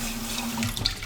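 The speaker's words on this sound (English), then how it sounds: "I need to drain the meat now" Drained meat grease from cooking lasagna filling is poured into a cup, a steady close liquid trickle with a few small splashes and drips.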